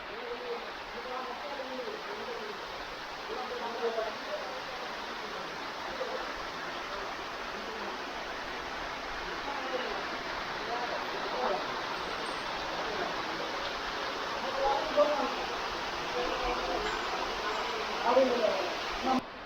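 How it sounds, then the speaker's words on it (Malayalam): Steady rushing water flows continuously down a mountain stream near a waterfall at Tropic Valley, Kanyakumari, a broad even roar like a stream tumbling over rocks, with faint voices now and then beneath it. "അത്രയും മുകളിൽ നിന്നാണ് വെള്ളം ഒഴുകി വരുന്നത്"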